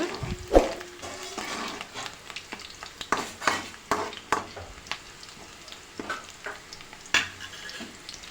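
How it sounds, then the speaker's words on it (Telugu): Chopped onions and green chillies fry in oil for a goat blood curry. A low sizzle runs under repeated scraping knocks from a stirring spoon against the pan, close and uneven in rhythm. "ఆయిల్ వేసేసుకొని అందులోకి మనం కట్ చేసుకున్న ఆనియన్స్ పచ్చిమిర్చి ఈ రెండింటిని వేసేసుకొని మంచిగా ఫ్రై చేసుకోవాలి"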